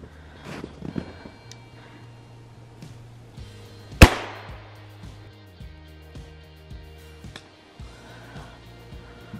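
A single sharp gunshot from a squirrel hunt in the woods rings out mid-clip, loud and close with a quick decaying echo, among quieter rustling and faint handling noises.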